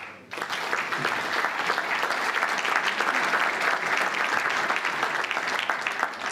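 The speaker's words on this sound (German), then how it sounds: "Applaus" An audience applauds after a presentation on the Schnabelsmühle roundabout project, with dense, even clapping that starts abruptly and holds steady at a moderate level throughout.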